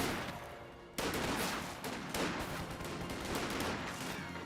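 Sustained bursts of MG34 machine-gun fire in the Company of Heroes 2 battle game, dense crackling gunfire that holds loud and steady throughout with a sharp onset about one second in.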